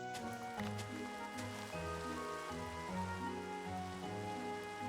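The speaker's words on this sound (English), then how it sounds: "And the rain to top it all off." Steady rain in a mining and crafting video game, a continuous soft hiss that runs the whole time beneath layered background music notes, with no voices.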